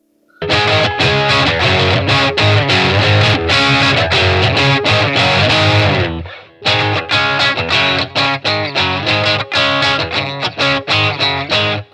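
Electric guitar with hotter pickups driven through heavy distortion, a loud sustained chordal passage that stops briefly near six seconds and then returns with choppier strummed chords, no talking.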